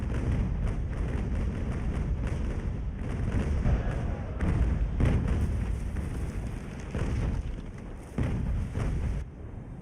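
Naval cannon broadsides in the Ultimate Admiral: Age of Sail game, a dense run of repeated deep booms and thuds overlapping continuously at close range, loud and heavy throughout.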